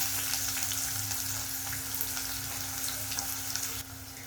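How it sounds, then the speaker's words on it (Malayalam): Chopped onion frying in hot oil with mustard seeds and cumin, a dense, even sizzle that holds steady and loud, then drops slightly near the end, no voices. "ഇനി നമ്മൾ അരിഞ്ഞു വെച്ചിരിക്കുന്ന ഉള്ളി ഇട്ട് കൊടുക്കുക"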